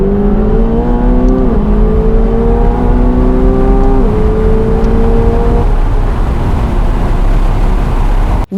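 A 2024 McLaren 750S and a 2024 Ferrari 296 GTB accelerate hard on a track, their engine notes climbing steadily through gear changes in a loud, continuous roar that fades slightly toward the end.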